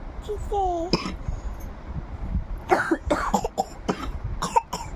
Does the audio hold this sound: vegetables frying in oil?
no